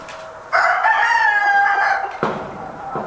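A backyard flock of chickens, with a rooster crowing loudly and close in one long drawn-out call, then clucking and a shorter squawk toward the end.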